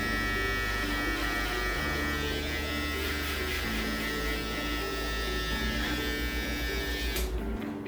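Electric hair finishing clipper trimming a fade on curly hair, a steady close buzzing hum with a shifting low drone that cuts out near the end.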